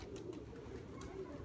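An adult pigeon coos in soft, low repeated calls at close range, with faint background noise and no speech over the cooing.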